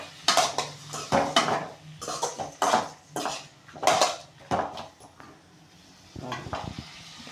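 A spoon scrapes and clatters repeatedly against a pan while tomato chutney ingredients are stirred and sautéed, with a faint sizzle beneath the irregular metallic knocks; no voices.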